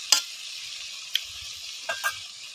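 A small-fish curry with tomatoes frying on a clay stove gives a steady soft sizzle, with a few sharp clicks and light stirring knocks from close by, heard alone without talk.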